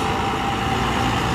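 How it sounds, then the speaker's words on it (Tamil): Tata-engined bus idling at a busy bus stand in Madurai, a steady dense engine drone filling the whole moment with even loudness and no break. "சவுண்டை பார்த்தாலே தெரிஞ்சு டாடா இன்ஜின்."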